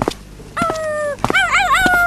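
A dog gives high, drawn-out yelping cries with wavering pitch, broken by a few sharp knocks, close and fairly loud.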